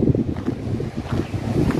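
Steady wind gusting over the Arabian Sea from the ramparts of Devgad Fort, a continuous low rushing roar with surging waves, loud and close with buffeting on the microphone, no voices.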